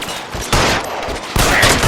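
Gunfire in the crime video game LA Noire: two loud, close bursts of rapid shots in quick succession, sharp and dense with no speech.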